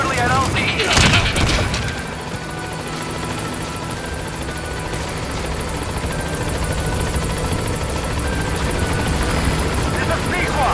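In the video game Metal Gear Solid V, a helicopter approaches a landing zone with a steady rotor drone beneath a burst of sharp clatter at the start, while radio voices speak over it.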